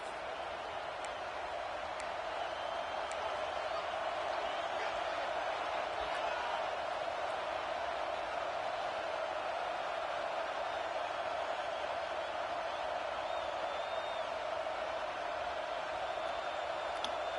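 Steady roar of a stadium crowd in the video game College Football 26, a dense continuous wash of cheering that holds at an even level throughout with no talk over it.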